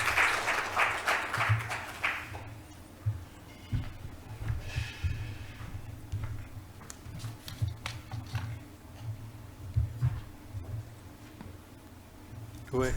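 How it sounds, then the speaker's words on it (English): An audience at a conference breaks into applause for a speaker: a burst of dense clapping in the first few seconds that gives way to a voice talking over a quieter room with scattered claps. "A big round of applause to him."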